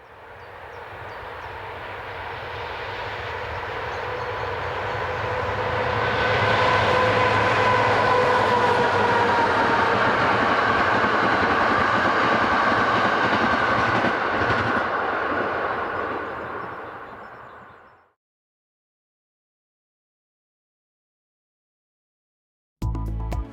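CFL class 3600 electric locomotive number 3602 passes heading east of a station, a loud steady rush and hum that swells, holds for several seconds, then cuts off into silence.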